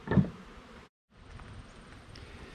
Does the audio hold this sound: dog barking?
no